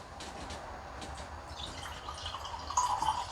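Apple and pear cider pours softly into a glass, a gentle steady trickle with faint fizz that builds slightly toward the end.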